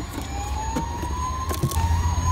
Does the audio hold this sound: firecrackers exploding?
no